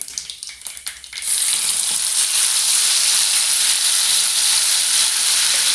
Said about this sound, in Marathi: एक मोठी पळी तेल घेतलं त्यामध्ये मोहरी घालायची जिरा घालायचं आणि बनवलेली पेस्ट घालायची आहे